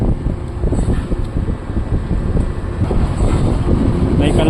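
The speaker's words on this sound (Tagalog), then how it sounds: "May kalakasan ng hangin." Strong wind buffets the microphone with a steady, heavy roar that rumbles on without a break.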